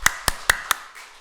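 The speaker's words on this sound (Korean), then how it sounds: "우리 박수 한번 칠게요." A church congregation claps their hands in four quick, evenly spaced sharp claps, then falls silent.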